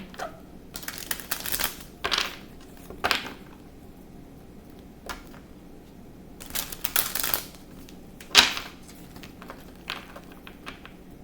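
Tarot cards riffle and slap in several short shuffling bursts, separated by quieter pauses with light handling noise.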